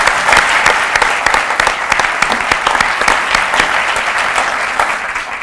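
An audience at a Walnut Creek police awards ceremony gives loud, sustained applause, dense, even clapping from many hands that holds steady for several seconds.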